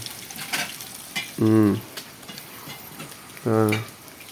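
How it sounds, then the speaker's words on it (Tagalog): Steady hiss of chicken wings frying in hot oil up close, broken by two short, loud humming tones a couple of seconds apart. "Prito kon yung manok guys."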